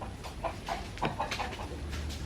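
Island chickens at a laying spot, a few short soft clucks spaced across a couple of seconds over quiet outdoor background.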